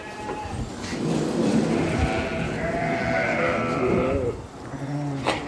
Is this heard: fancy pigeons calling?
no